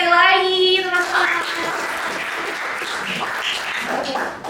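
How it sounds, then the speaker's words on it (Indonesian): Audience applause closing a debate session on young people in politics, rising behind a fading tonal sound and then settling into a steady, fairly loud patter of many hands that carries on to the end. "kasih tepuk tangannya sekali lagi"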